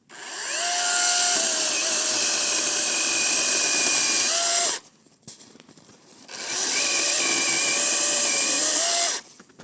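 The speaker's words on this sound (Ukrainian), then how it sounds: "Пилка, що з нею справиться навіть другокласник." Zegor CSPP-21BL cordless battery saw running in two long bursts of about four seconds each, a loud steady whining motor that spins up, holds with slight pitch shifts as it cuts, and stops with a short quiet gap between.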